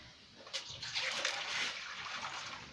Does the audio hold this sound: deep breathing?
no